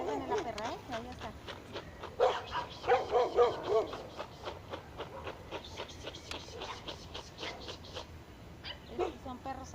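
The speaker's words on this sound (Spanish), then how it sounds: "Estos son perros salvajes. Ahí andan con la mamá." Wild dogs, a mother with her pups, bark and yip outdoors in repeated bursts, some close and some farther off, while people talk over them.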